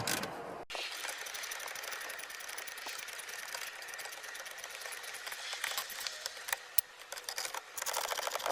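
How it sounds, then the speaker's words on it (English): A socket driver backs out 7mm screws holding the dash of a 2017+ Ford Super Duty, giving a close, continuous rapid ratcheting click with a few sharper ticks, no talking. "We use our socket driver to take those screws out."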